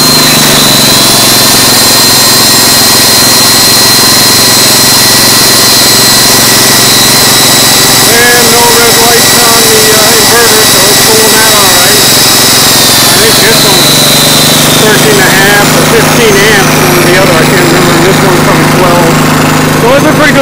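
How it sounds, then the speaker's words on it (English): A power grinder runs steadily alongside a charcoal gasifier setup, a loud continuous high-pitched whine and rumble throughout, its pitch shifting slightly as it comes under load. "Here's the grinder."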